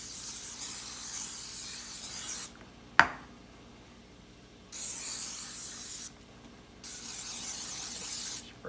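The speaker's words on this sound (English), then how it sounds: "we're gonna spray them really good so they don't stick" Cooking spray hisses onto bread pans in three steady bursts of a couple of seconds each, separated by quiet pauses, with a sharp knock of the can between the first two sprays and no talking.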